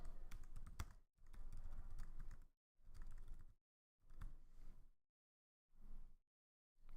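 Bursts of typing on a computer keyboard while entering a caption in a web page builder, several close, moderately quiet runs of key clicks separated by short silences.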